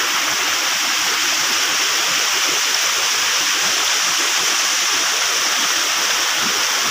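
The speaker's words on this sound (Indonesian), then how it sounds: "Ini air terjun ya." Waterfall at Ci Koning in Bogor, a loud, constant hiss and rush of falling water that stays steady throughout and is heard alone.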